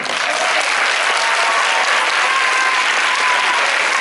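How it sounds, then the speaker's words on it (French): Dense, steady applause from a film-premiere audience honoring the movie's producers, loud and sustained throughout with no break. "Je vous demande de les applaudir"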